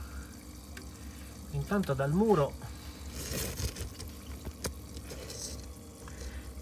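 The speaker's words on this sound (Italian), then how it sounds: "dal muro scorre sempre più acqua" Water pours steadily out of a laboratory wall into a drainage channel, a faint continuous wash underneath a person speaking.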